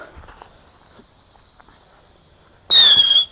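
After near silence with a few faint footsteps, a lit whistling firecracker shrieks out a sudden, loud, high, wavering whistle that lasts well under a second before cutting off.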